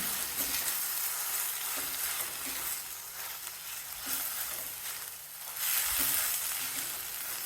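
Steady hiss and crackle of hibiscus flowers sizzling in a hot kadai, continuous throughout with occasional louder stirring scrapes.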